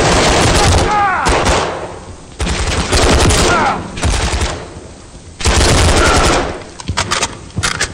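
Rapid bursts of automatic gunfire and shots in a Call of Duty firefight set in Verdansk, loud and close, coming in several dense volleys with short gaps, mixed with shouted voices and game effects.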